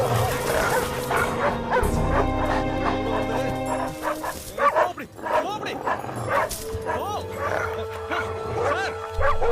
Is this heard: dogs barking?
yes